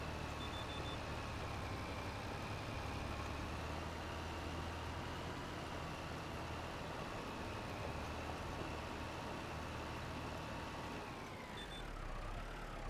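Steady in-cab tractor engine rumble from a farming video game, a constant low drone with a faint whine above it, holding level throughout before the pitch dips briefly near the end.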